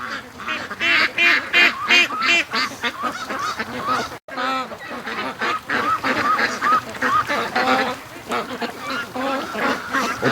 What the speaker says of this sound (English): The ducks playing in my new trenches.